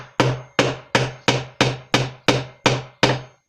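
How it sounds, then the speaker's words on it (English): Nine sharp, evenly spaced hammer blows drive a nail into a wooden planter box being built by kids, each strike a crisp knock with a quick decay, close and loud with no talk. "if you are using a hammer, it's important to hold the back end of the hammer where the handle is so you can get more swing on it"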